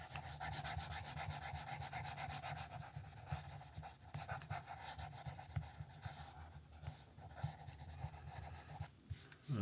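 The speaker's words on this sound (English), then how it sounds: "let me just erase all of this so I could use up this real estate" A board eraser rubbing out math writing, a close, continuous scrubbing and rubbing in quick back-and-forth strokes for nearly ten seconds with no talking.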